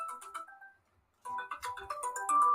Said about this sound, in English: And hey, I got a phone call.